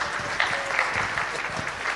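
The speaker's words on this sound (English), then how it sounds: "a round of applause for our shepherds." An audience claps for the shepherds at a Christmas event, a steady wash of applause at moderate distance, continuous throughout with no clear speech.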